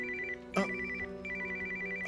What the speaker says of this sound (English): Oh, the phone!